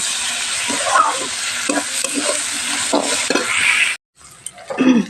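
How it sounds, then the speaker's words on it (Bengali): Spice masala frying in a pan with cumin and coriander powder, a steady loud sizzle with repeated stirring scrapes throughout, briefly cutting out near the end before resuming. "মশলাটা বেশ কিছুক্ষণ ভেজে নিয়েছি আর এবার জিরে আর ধনে গুঁড়ো দিয়ে দেব"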